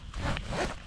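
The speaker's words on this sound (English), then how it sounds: "I had trouble with the zipper here catching right there" A zipper on a Wiggy's military surplus sleeping bag being pulled and snagging, a short scratchy rasp in two quick pushes, close and fairly loud.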